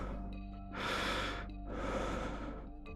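Slow, close breathing from Zane, a character in the game Love & Deepspace, with two long airy breaths lasting about a second each, set against a soft steady hum.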